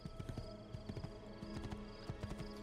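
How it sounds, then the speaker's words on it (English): Horse hooves clip-clopping in an Assassin's Creed game, a quick steady run of close, soft thuds over a busy background, with no talking. "And what better way to get there than on a horse?"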